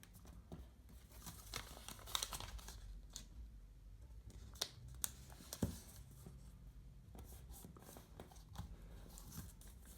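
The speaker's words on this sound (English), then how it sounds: "you're just trying to fold it in half" Paper is folded and creased for an origami Golden Snitch, with soft crinkling, sliding and sharp pinching clicks close by, faint and intermittent without speech.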